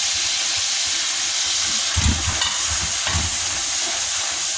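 Tomatoes fry in a pan as red chilli, salt, ground coriander and turmeric go in, making a constant loud sizzle with a couple of brief stirring scrapes midway.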